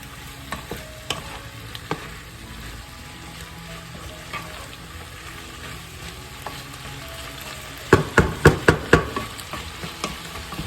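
Sautéed chayote squash stirred in a pan, a soft continuous sizzle under scattered scrapes, ending in a quick run of louder spoon clacks against the pan.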